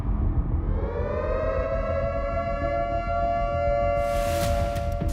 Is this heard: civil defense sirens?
yes